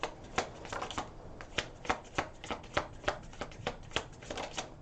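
Tarot cards shuffled and drawn by hand, a steady run of crisp, close riffles and slaps repeating roughly every third of a second, with no voices.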